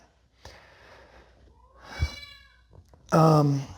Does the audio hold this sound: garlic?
no